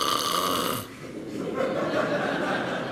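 A man imitates snoring during a keynote talk on sleep apnea, giving a loud rasping snore that breaks off suddenly, then a softer breathy follow-up, all close and alone.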